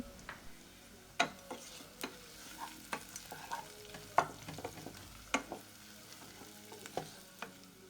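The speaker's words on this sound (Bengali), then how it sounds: "পেঁয়াজ কুচি হালকা বাদামি হয়ে আসলে আমরা এখানে কিছু গোটা গরম মশলা দিয়ে দিব" Whole garam masala frying with browned chopped onions, heard as a soft sizzle broken by sharp spatula taps and scrapes at irregular intervals, close but fairly quiet.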